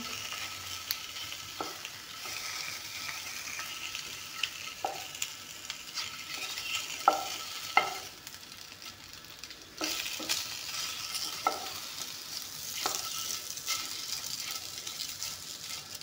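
Two pieces of fish fry in a hot pan, a steady close sizzle with scattered spatters and pops, softening briefly in the middle before resuming.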